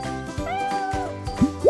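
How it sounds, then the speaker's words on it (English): Cartoon-like cat meows in a children's farm animal quiz, a short tonal mew followed by brief plopping pops near the end. "A cat."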